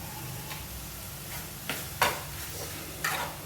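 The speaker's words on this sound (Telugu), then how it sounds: "జస్ట్ ఇవన్నీ బాగా మిక్స్ చేసుకున్నా" Chilli powder and pizza pasta sauce being stirred in a pan over a low sizzle, with a few sharp spoon scrapes and taps against the pan.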